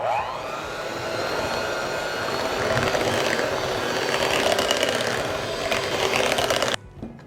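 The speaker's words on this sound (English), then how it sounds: "I'm gonna beat this really well." Eggs are beaten for a sweet potato casserole: a steady, close whirring drone runs for about seven seconds, then stops abruptly near the end.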